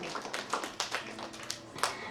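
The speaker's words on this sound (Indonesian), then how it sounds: "Kita berikan tepuk tangan dulu buat Oma Pinyak" Small crowd claps for Oma Pinyak at a preschool's fifteenth anniversary celebration at a church, a loose, moderately close patter of individual hand claps with uneven rhythm.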